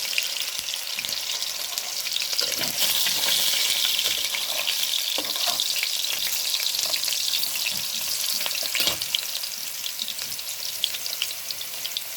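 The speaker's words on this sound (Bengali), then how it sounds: "তো আমাদের এখানে আলুটা হালকা ভাজা হবে।" Potato pieces fry lightly in a pan with cardamom and a pinch of salt, giving a steady close sizzle broken by scraping stirs, with no talking.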